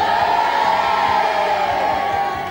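A TV studio audience in a 1990s Catalan show keeps up a steady, dense crowd roar throughout, a continuous wash of many voices with no clear individual words.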